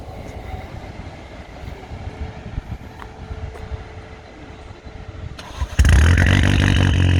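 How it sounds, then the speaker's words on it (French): A track-prepped Opel Corsa starts up after a stretch of low rumbling background, the engine catching abruptly near the end and settling into a loud, steady, close idle. "va nous démarrer la voiture"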